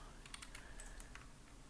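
Keyboard shortcuts tapped on a computer keyboard during 3D modeling work: a quick run of light, quiet key clicks, close and alone.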